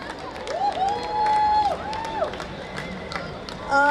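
An audience at a school Mother's Day celebration claps and cheers for a young singer, scattered claps and crowd noise mixed with whistle-like tones, a voice and a brief swell at the end.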